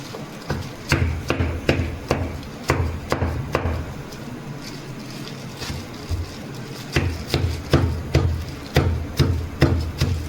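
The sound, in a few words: chopping jaggery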